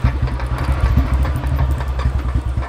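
A decade-old Royal Enfield Bullet motorcycle engine runs close by, its low, loud, evenly pulsing thump repeating in a fast steady rhythm, with nothing else over it.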